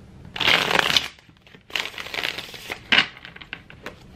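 Tarot cards being shuffled by hand in bursts, crisp papery riffles and slaps close up, with short pauses between shuffles and no speech.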